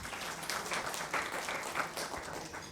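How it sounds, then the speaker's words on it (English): An audience gives a round of applause for panelists at an alumni forum, steady many-handed clapping in a hall that swells and holds throughout. "Once again, a round of applause for our panelists."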